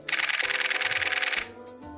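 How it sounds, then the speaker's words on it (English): A Canon 7D Mark II shutter fires a 14-frames-per-second burst: a fast, even string of close, crisp mechanical clicks that lasts about a second and a half, then stops abruptly. "a good idea of how fast 14 frames per second on the shutter is just take a listen to this"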